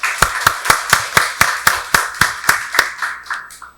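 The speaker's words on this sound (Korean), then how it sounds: "박수로 하나님께 영광 돌리겠습니다." A church congregation claps in unison during a Sunday worship service, about fourteen loud, sharp, evenly spaced claps in a steady rhythm that slow slightly and fade at the end, with no talking.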